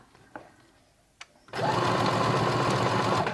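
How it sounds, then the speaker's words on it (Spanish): A Brother CS10 sewing machine stitches light fabric at a short stitch length, a steady close whirring hum that starts after a couple of faint clicks and runs on without talk. "He rematado y sigo cosiendo."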